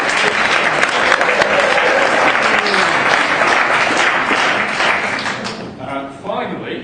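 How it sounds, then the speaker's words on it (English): A ramblers' Christmas lunch crowd applauds the walk leaders, steady close clapping from many hands filling the room for about six seconds before thinning out as a voice begins. "Please give yourselves a round of applause."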